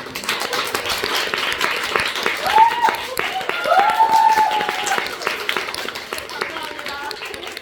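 A theatre audience at a stage greeting claps for the backstage crew, moderate applause rising and falling while voices speak over it.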